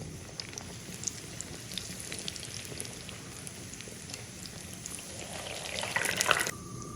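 Scallion pancake dough slides into very hot oil, a low bubbling fry that jumps into a brief burst of sharper sizzling crackle near the end.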